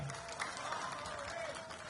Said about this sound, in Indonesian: tepuk tangan untuk Bapak Joko Widodo